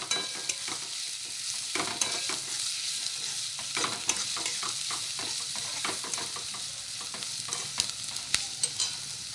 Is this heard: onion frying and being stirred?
yes